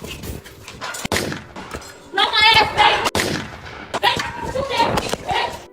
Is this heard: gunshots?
yes